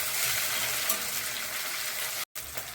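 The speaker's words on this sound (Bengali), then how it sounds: "এখন আদা রসুন বাটা 1 চামচ দিলাম, এখন ভালো করে আবার ভেজে নেব।" Sliced onion with a spoonful of ginger-garlic paste sizzles in a pan, a constant dense hiss close by that cuts out for a moment near the end before resuming, with no voices.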